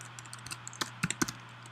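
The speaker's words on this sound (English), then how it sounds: "let's type in connector" Scattered light taps on a computer keyboard while typing a search into a browser tab, irregular clicks that grow a little louder and sharper toward the end, close by with no voices.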